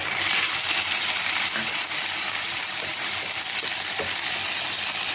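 Ginger garlic paste sizzling loudly in hot oil with fried onions and a bay leaf in a pan, a steady broadband crackle holding for several seconds with a few sharp pops.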